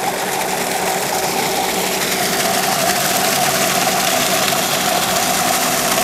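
A modified JET 1000 water pump runs loud and close, a continuous roaring hum with a hissing wash of water spray that holds steady without a break.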